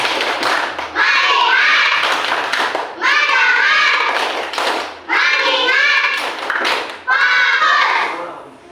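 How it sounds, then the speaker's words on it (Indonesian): A group of children claps hands in rhythmic bursts while chanting along, in four loud, close phrases separated by short pauses. "Tepuk bagus."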